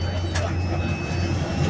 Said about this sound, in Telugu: ఈ బస్సులో అయితే ఇప్పుడు ఫ్లైట్ దగ్గరకు వచ్చాము.